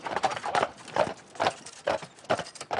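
Ardennes draft horses pulling a horse-drawn carriage, hooves clip-clopping in a steady, loud, close rhythm of repeated paired strikes, with no talking.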